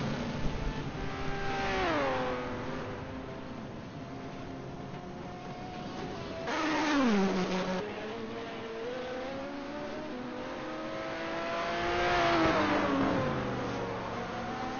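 Race cars in a simulated endurance race at Road America roll along pit road, engines droning with rising and falling pitch as they slow and pull away, a steady mechanical hum without talk.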